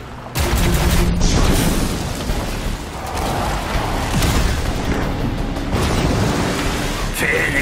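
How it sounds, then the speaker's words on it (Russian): Mortar blasts and gunfire from a combat sequence in the video game RAGE 2: loud, dense booming and rumbling explosions rolling on almost continuously, with a brief dip midway, mixed with game music and effects. "Помнишь про миномет «Адское пламя»?"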